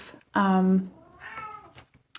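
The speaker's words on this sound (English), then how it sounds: "sorry if you can hear the cat, he thinks he needs to be fed right now." A hungry house cat gives a loud, close meow followed by a second, softer drawn-out meow, with a brief faint sound at the end.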